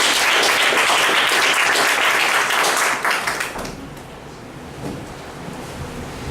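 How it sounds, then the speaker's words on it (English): Loud applause from a meeting audience, dense clapping for about three seconds that then thins and fades to a quieter room murmur. "Give a big round of applause."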